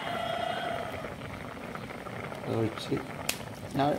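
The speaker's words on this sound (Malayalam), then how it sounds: "തിളച്ച് റെഡി ആയിട്ടുണ്ട് കേട്ടോ" A pot of fish curry with thick milk bubbles steadily at close range, with soft gurgling pops running under quiet background noise and a few brief sounds from nearby.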